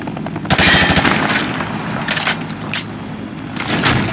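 Rapid bursts of automatic gunfire from a Call of Duty: Modern Warfare 2 training range, shots fired through a wood panel at a target, loud and close, in several clusters with brief gaps.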